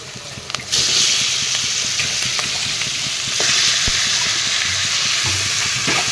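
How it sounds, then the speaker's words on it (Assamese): Meat sizzles loudly in a pan with onions and ground coriander, a steady close frying hiss with occasional stirring scrapes and taps throughout, no voices. "তাৰপিছত এতিয়া দি দিম মই মাংসখিনি"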